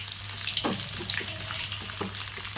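Spices and crushed small onions hit hot oil for tempering, raising a dense, continuous sizzle with faint crackles and a few clinks of a utensil throughout.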